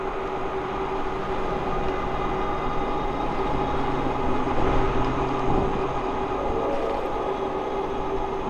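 An eastbound train rolls past on a cold, cloudy day, a steady broadband rumble with a sustained low hum, heard from nearby at constant loudness throughout.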